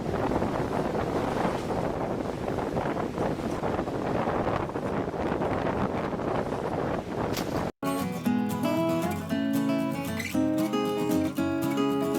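Cold winter wind blowing outdoors in extreme Canadian weather roars steadily against the microphone for about seven seconds before giving way abruptly to music.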